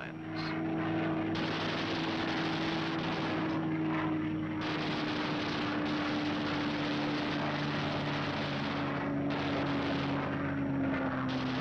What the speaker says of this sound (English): Skimming along at maximum speed, the fighters pair off and go to work